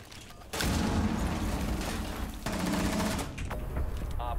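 Rapid bursts of gunfire from a video game firefight at a Skybridge entrance, loud and dense, running almost nonstop after a brief quiet start with one short pause midway.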